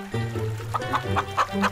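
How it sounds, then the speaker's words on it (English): A chicken clucks close up, first a short drawn note and then a quick run of four or five rhythmic clucks, loud and clear with nothing else behind it. "Chicken."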